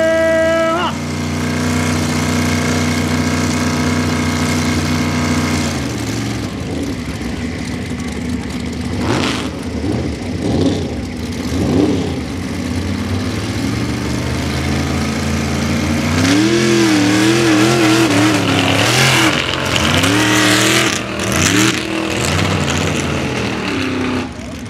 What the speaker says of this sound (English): Ricky in the big old school high clearance large suspension mud racer and this little slick little Jeep with the 434 cubic inch small block Chevy.